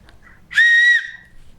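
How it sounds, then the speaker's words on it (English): A small survival whistle gives one short, shrill, steady blast of about half a second, clear and close against a quiet background. "and a whistle"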